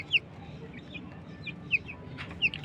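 Silkie chicken chicks, about one and a half to two months old, give a few short, high clucks and peeps at spaced intervals over a low steady background hum, fairly close.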